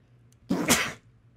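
A single sharp sneeze bursts out close by, a brief intake followed by a loud explosive release lasting about half a second, with near silence around it.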